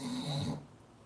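A voice imitates a fake snore, a single short rasping snore sound lasting about half a second, close and fairly quiet, then fading into near silence.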